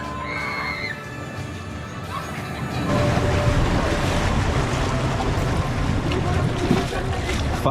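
Energylandia's Speed water coaster rushing through water, a steady, loud roar of splashing and wind that swells partway through and stays dense, with faint voices mixed in.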